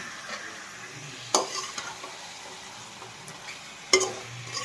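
Country chicken curry masala sizzles and fries in a pan while a spoon stirs it. A low, steady hiss runs throughout, broken by two sharp clinks of utensil on pot, and nobody speaks.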